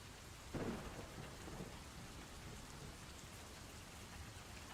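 Steady rain patters in the background with a low rumble of thunder rolling in early, a faint, continuous wash of storm noise with no voices.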